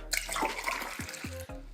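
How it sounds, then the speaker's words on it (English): Warm water, heated to about 100°F, poured from a measuring cup into a cup for pizza dough, a close, steady splashing pour that tapers off after about a second, followed by a few light clinks. "You need to pour that into your cup, like so."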